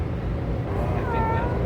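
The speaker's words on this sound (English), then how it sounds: "Meow." A pet cat meows indoors on a hot day, one drawn-out close meow over a steady low background hum.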